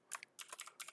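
Fingers tap on a computer keyboard while code is entered, a quiet, close cluster of quick irregular key clicks in short bursts.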